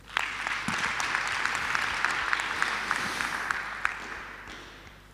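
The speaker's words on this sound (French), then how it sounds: "On peut l'applaudir." Steady applause fills a municipal council meeting in Carry-le-Rouet as a new director general of services is welcomed, a dense roomful of clapping heard from a distance that holds even for about five seconds and then slowly eases.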